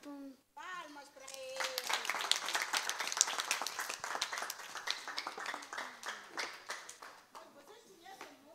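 A group of young children at a preschool clapping after a story, a lively ragged burst of small hands that swells and then thins, with an adult voice briefly speaking at the start and children's chatter under the applause.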